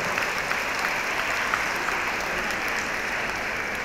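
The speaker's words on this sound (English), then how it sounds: "Guys, please give a round of applause." A large student audience applauds guests arriving on a dais at a book fair author session, a continuous, even roar of many hands clapping at a moderate, distant-sounding level.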